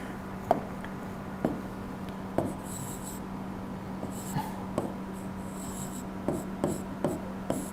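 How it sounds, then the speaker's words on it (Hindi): A marker or chalk scratches across a classroom board during an exam-preparation lecture, with sharp taps as strokes begin and short rasping squeaks, faint and close, spaced irregularly over a low steady hum, no talking. "एक मिनट में फिर से लिख देता हूं"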